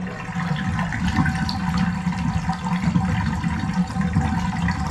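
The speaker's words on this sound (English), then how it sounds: "Seems to be draining better than it was before." Water draining from a bathtub after the clog was cleared with a drum auger snake, a steady rushing, gurgling flow that stays loud and continuous throughout with no voices.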